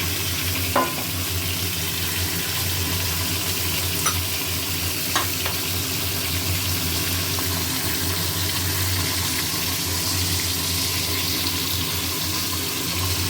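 Food sizzles loudly and steadily in hot oil in a pan, a dense continuous frying hiss with a few small clicks of stirring, close up and with no voices.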